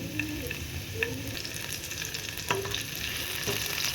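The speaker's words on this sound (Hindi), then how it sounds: "हरी मिर्च जब आप भून देते हैं थोड़ी सी" Green and red chillies sauté in hot oil with a steady, close sizzle and a few light stirring scrapes and taps, no voices.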